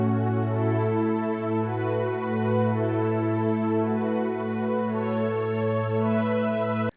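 A Korg Wavestation synthesizer plays its Warm Strings preset, a smooth sustained string pad that holds a rich chord with gentle motion throughout and cuts off abruptly at the end.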